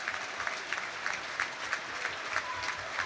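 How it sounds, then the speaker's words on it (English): A football crowd gives a minute's applause during a match between Northampton Town and Wrexham, a steady distant wash of clapping from the stands with a faint, continuous rhythm. "there's a minute's applause now"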